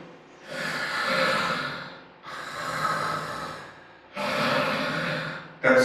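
A voice imitates snoring during sleep, as in an obese sleeper whose airway narrows: three long, loud, rasping snorts separated by short pauses, with a fourth beginning at the end, heard alone.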